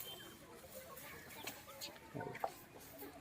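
Desi chickens on a village poultry farm cluck softly in short, scattered calls over a low background hum, with a few slightly louder clucks near the end.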